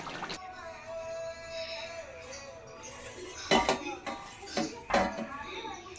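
A pot of cooked meat lifted off a home stove, its metal clanking and scraping in a few sharp knocks over a steady cooking hiss, with a voice speaking nearby.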